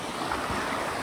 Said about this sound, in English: This is a Mill Creek, the trout stream